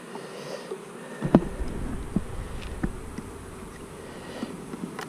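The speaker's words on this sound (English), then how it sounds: "On these beefy beehives," Honey bees buzzing around Langstroth beehives, a continuous close, loud drone with individual insects swelling past the listener and a few soft knocks against wood, with no talking.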